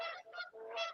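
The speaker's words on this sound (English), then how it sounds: "You got geese running around." Canada geese honk outdoors in three quick, fairly close nasal calls within a second, with no speech over them.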